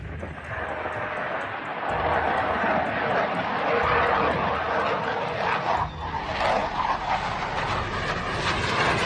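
A Norfolk Southern train rumbles past steadily and loudly, with a broad rolling roar, a brief dip near the middle, and then a brightening rush, with no talk over it.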